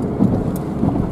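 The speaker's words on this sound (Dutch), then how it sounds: "het is best wel een beetje aan het regenen" Steady rain falls outside, a dense, continuous hiss with a low rumbling undertone, even and unbroken.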